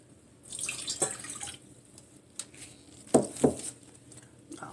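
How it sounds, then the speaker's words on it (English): A cup of distilled water poured into a stainless steel pot in a home kitchen while making elderberry syrup: quiet trickling and splashing, with two sharper splashes near the end. "pour that cup of distilled water into that stainless steel pot there"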